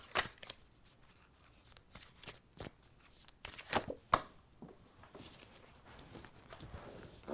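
Self-compassion cards being shuffled and drawn, a quiet series of soft papery riffles, taps and slides coming close together and then sparser over several seconds, with no talk.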